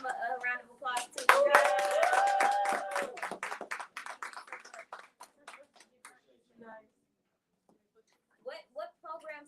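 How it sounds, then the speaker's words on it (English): A small group applauds a creative writing teacher, brisk clapping lasting a few seconds with some cheering and voices mixed in, then fading into near quiet before talk resumes. "Give Baba Sam a round of applause too."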